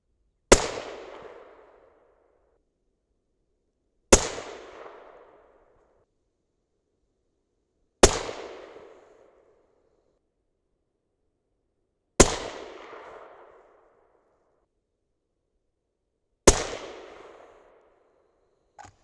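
Five 6.5 Creedmoor rifle shots with Hornady 140gr match loads, single loud cracks spaced about four seconds apart, each trailing off in a long outdoor echo.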